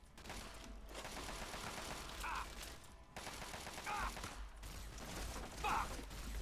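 Quiet, steady crackle of distant gunfire in Fallout: A Tale of Two Wastelands, with repeated volleys and short higher whine-like sounds layered in.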